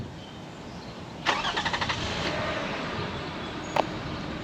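A 2005 Toyota Highlander engine cranks briefly with a rapid stuttering whir, catches, and settles into a steady idle, heard close up over a constant engine drone.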